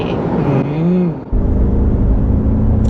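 A Nissan Terra SUV engine revving as the accelerator is pressed, heard from inside the cabin as a loud, steady droning roar that rises briefly and then holds.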